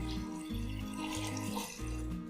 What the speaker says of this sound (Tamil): அது முங்குற வரை நம்ம தண்ணி ஊற்றி